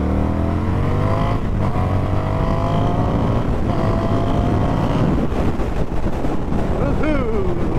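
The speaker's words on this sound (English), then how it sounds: "Nothing like cracking the throttle open on the FTR." An Indian FTR 1200 motorcycle with the throttle cracked open, its engine note climbing steadily through the revs under heavy wind buffeting at the rider's helmet, loud and continuous.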